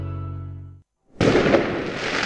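An alborada fireworks display at a mascletà bursts in after a low droning sound cuts off and a brief silence, becoming a loud, sustained roar of rapid firecracker blasts that fills the space.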